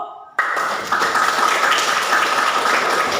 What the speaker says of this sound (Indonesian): Ibu minta kalian tepuk-tepuk.